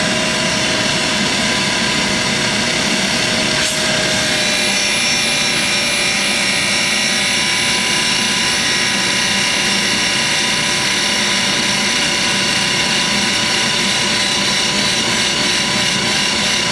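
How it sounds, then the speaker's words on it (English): A grinder works the upper face of an ultra-precision toolroom spindle with a loud, continuous high whine and broad hiss that holds steady throughout, close up and without voices. "I will grind that upper face"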